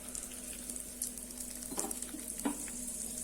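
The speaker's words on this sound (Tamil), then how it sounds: "இது செவக்க வறுத்துக்கலாம்." Urad dal, chana dal, mustard seeds, cumin and asafoetida frying in oil in a kadai, a steady close sizzle with occasional stirring scrapes and crackles, no voices.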